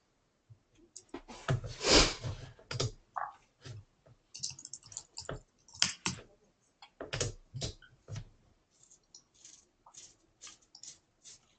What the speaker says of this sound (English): I'm just typing back to some of the questions.